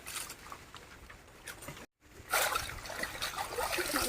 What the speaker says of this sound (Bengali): প্রথমে হেলাগুলো ধুয়ে নিই